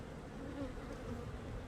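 Honey bees swarm over a brood frame carrying the queen, a dense, steady buzzing hum that sounds close and fills the short moment without any voices.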